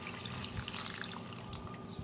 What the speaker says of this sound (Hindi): इसमें मैं 1 से 2 गिलास पानी डाल देती हूँ